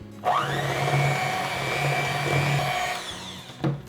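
An electric mixer on low speed whirs steadily through pumpkin bread batter for about three seconds, then stops with a brief clunk.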